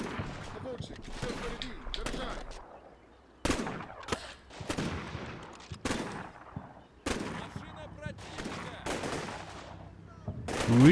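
Combat Mission: Cold War battle with rifle and machine-gun bursts and grenade blasts, a rapid string of sharp, loud reports and booms in clustered volleys with short gaps, ending in a louder swell.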